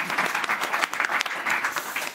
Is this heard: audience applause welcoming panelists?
yes